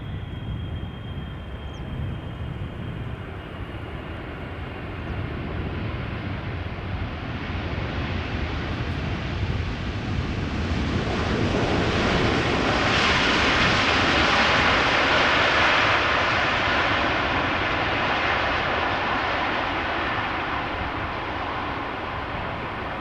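An airliner lands at Amsterdam Schiphol in a crosswind, a broad jet roar building from a distant rumble to a loud, hissing peak as it passes, then easing slightly, with no voices.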